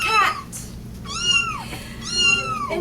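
A cat meows several times in clear, drawn-out calls, close and loud, standing in for the Cheshire Cat met by Alice as a lost cat in a strange land.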